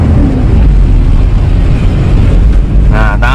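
A 2002 Toyota Kijang LGX with a 2.0 EFI engine drones loudly and steadily inside the cabin while shifting to third gear, with a voice speaking briefly near the end.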